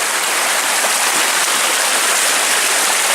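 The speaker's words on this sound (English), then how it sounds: "Oh look, another water crossing." Stream water rushes over a crossing on a forest hiking trail, a loud, steady, unbroken wash of flowing water close to the microphone with no voices.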